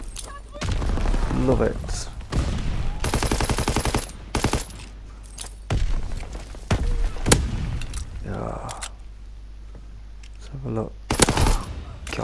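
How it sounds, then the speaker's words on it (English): Loud, close Red Baron rifle shots ring out in Call of Duty WWII gameplay, fired in spaced bursts with sharp reports and thuds, while a voice talks over parts of it. "This Red Baron, brilliant gun. Let's say brilliant rifle, in fact."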